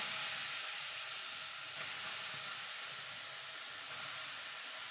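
Grated carrot sizzles in hot ghee over a high flame while carrot halwa is cooked, a steady, even hiss of frying with no talk.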